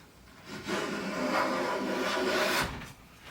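A Jorgensen 60 1/2 block plane takes a thin shaving from wood in one smooth, rasping stroke lasting about two seconds, close and clear, with no talking.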